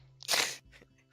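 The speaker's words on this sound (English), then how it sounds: "I hear your chips in the background." Someone crunching chips in the background of a voice chat, one loud crisp crunch followed by a fainter second bite, close to the microphone with no talking.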